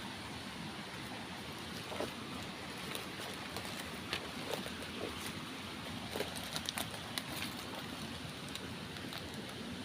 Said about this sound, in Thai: เสียงน้ำตกน้ำไหล